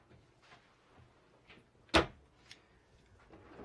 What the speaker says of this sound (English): soft close drawers.